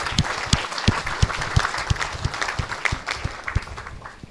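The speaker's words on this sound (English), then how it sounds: "Kindly show your appreciation and welcome them with a round of applause." A crowd applauds steadily for a few seconds, sharp claps overlapping throughout at an even, lively level with no voices.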